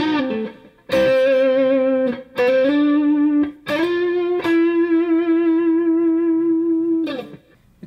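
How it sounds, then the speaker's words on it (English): Sire S7 electric guitar on its neck pickup through a tube screamer overdrive pedal, several sustained overdriven notes and bends with sharp pick attacks, loud and close, then fading to quiet at the end. "So if we go back to the second position, so we're using that neck pickup, and for some pedals, we can try a tube screamer."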